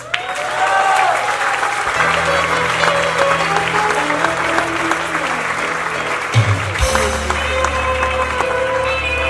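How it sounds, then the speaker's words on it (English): Festival-opening crowd gives a big round of applause for the organizers, sustained dense clapping throughout with some crowd noise and brief speech beneath it. "Please give a big round of applause"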